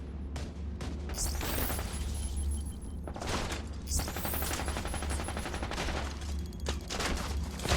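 Enemy turrets fire in The Division 2, with rapid bursts of automatic gunfire that repeat in rhythmic volleys, mixed with sharp impact cracks and a few louder shots, fairly close and steady throughout.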